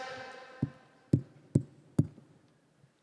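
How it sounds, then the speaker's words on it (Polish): A soft tap is followed by three sharp knocks at an even rhythm, close and clear, as part of a comedian's stage story at a comedy festival, with no speech over them. "Trzy puknięcia."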